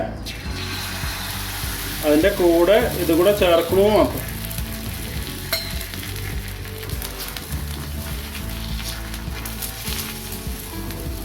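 Omelette-style batter sizzles and crackles steadily in a hot pan, with a person briefly talking over the frying early on.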